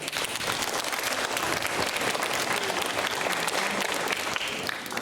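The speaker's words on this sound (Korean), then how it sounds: "박수 한번 쳐줄까요?" An audience at a high school admissions information session bursts into dense, sustained applause that fills the room steadily for several seconds.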